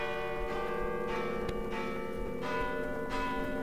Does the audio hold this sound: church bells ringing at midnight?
yes